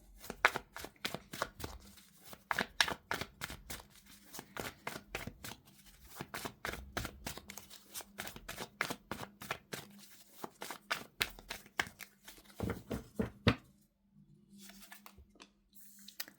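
Tarot cards being shuffled by hand, close and crisp, in rapid bursts of riffling and flicking slaps with brief pauses between rounds, ending in quieter handling.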